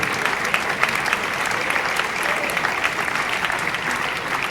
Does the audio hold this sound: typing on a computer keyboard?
no